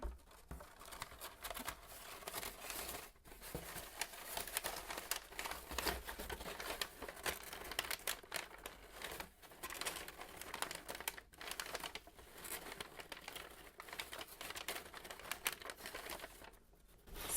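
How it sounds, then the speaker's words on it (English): Paper from an album boxset unboxing crinkles and rustles softly, close up and continuously, in dense irregular crackles with brief pauses. The sound is quiet and carries no talk. "Some more paper crinkling for you."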